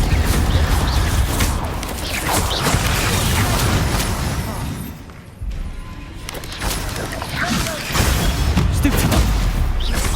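Confringo and Bombarda spell blasts in Hogwarts Legacy, a dense run of booms, crashes and bursting impacts in a loud fight that dips briefly near the middle, with spoken incantations mixed in.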